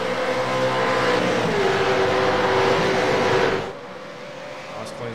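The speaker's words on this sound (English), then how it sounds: "the supercars now flying through" V8 supercars roar past loudly at the ANZAC 6 hour race, a sustained engine howl with rising pitch that cuts off abruptly, leaving quieter trackside ambience.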